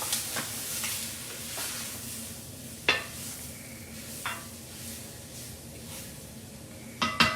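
Beef stew meat browns in oil in an Instant Pot Dutch oven, a steady close sizzle with occasional clinks and scrapes of a utensil stirring, and no talking.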